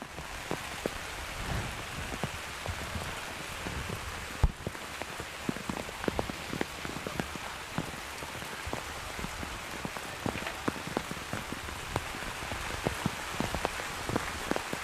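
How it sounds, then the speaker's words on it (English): Steady rain pours down outdoors at a youth soccer tournament field, with wind, forming a dense, continuous hiss of drops hitting surfaces close by. No voices are heard. "As the rain is starting to get whipped in, there's a little bit of rain, wind with this rain."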